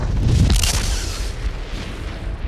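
A large-calibre artillery shell explodes in a single deep, heavy boom with a sharp burst that rolls into a long rumbling tail. The blast is loud and close, and no one speaks.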